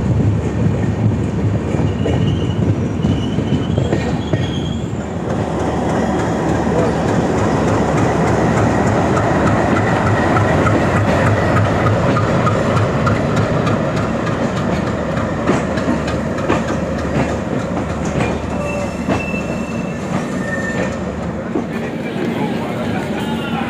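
Kolkata to Jammu Tawi Express train running as it approaches Lucknow Junction, heard from on board: a steady, loud rolling rumble with clickety-clack wheel beats throughout and faint background voices.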